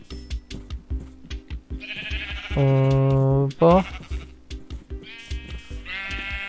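Sheep in an enclosure bleat loudly and close by, one long wavering bleat followed by shorter calls, mixed with rustling and a person speaking briefly among them.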